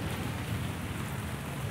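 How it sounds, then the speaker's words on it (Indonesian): Rain pours over a traditional village market in Indonesia with muddy lanes, a loud, continuous rushing wash of water close around, steady throughout with no voices. "Oke, udah hujan."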